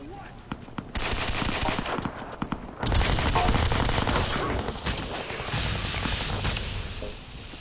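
Rapid machine-gun bursts and scattered shots from a first-person shooter, Crysis 2, crackle loudly and near, the firing growing denser and more continuous midway through as combat intensifies.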